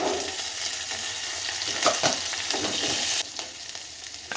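Green chilies and coriander fry in hot oil while being stirred, giving a close, continuous sizzle with scraping stirring sounds and no talking.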